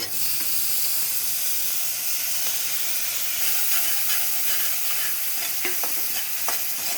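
Spices sizzle in leftover oil from frying fish, a steady broadband hiss with occasional sharp crackles and pops, close and continuous with no talking.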